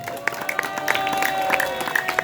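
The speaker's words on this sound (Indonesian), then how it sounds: "tepuk tangan buat Pak RT dah." Neighbourhood residents applauding their RT head at a halal bihalal community gathering, scattered claps and crowd noise over a sustained electronic tone, with some voices mixed in.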